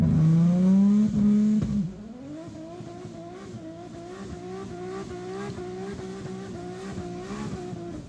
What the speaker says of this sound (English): Can never be mad at a good burnout